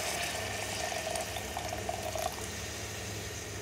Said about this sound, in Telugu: హాట్ వాటర్ పోస్తున్నాను.